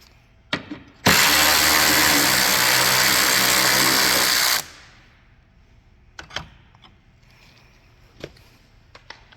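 A power tool, likely a drill or impact driver, loosens the battery hold-down bolts on a 2001-2005 Honda Civic, running loud and steady for about three and a half seconds, followed by scattered faint metallic clicks and handling noises.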